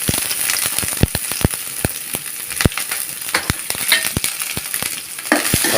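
Chopped onion frying in a little oil in a pan, a steady sizzle with frequent sharp crackles and pops throughout, close and fairly loud, no talking.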